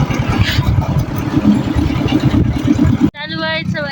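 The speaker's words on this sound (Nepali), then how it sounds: "चालु भएछ बाइक" An old motorbike engine runs at a steady, close, throbbing idle for about three seconds before it cuts off, and a voice then speaks.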